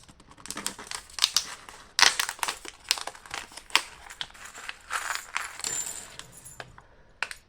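Stapled packets from a craft supply haul are pried open by hand. Sharp crinkling and crumpling of plastic and paper alternate with small clicks and tearing bursts at an irregular, close rhythm, and no one speaks.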